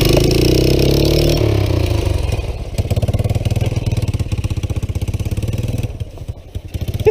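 Three-wheeler engine pull-started and running, settling into a loud, rapid chugging idle with steady pulsing rhythm close by, amid outdoor rumble.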